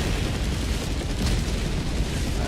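An orbital strike in a video game erupts into a sustained, roaring explosion, loud and broad, rumbling steadily without a break.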